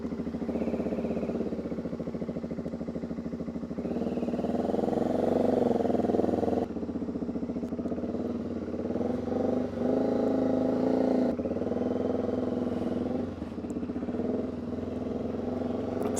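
A motorcycle cruises through Theriso Gorge on Crete, its engine droning steadily up close with shifts in pitch as it changes gear and revs, the sound cutting between segments of the ride.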